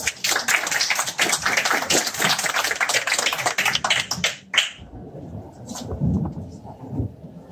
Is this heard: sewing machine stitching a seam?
no